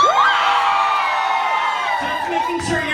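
A drag show audience at a bar screaming and cheering on cue, a loud sustained crowd yell with rising whoops that trails into scattered voices.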